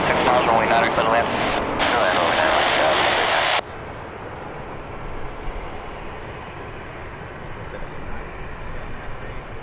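A Boeing 737 on approach to runway 9 at San Diego, a loud, steady jet roar that drops abruptly partway through to a lower, continuous rumble.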